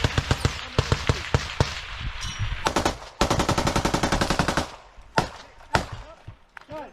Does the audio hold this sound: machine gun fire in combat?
yes